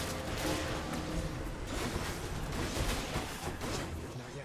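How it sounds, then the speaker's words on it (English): Explosions and combat in the video game Hades, a dense, continuous rumble of blasts and crashes layered over each other at steady loudness. "There's a lot of explosions going on."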